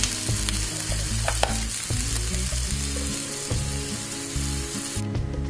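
Chilli chicken fries in a pan with a loud, continuous sizzle, punctuated by low scraping and knocking as the pieces are stirred and moved about.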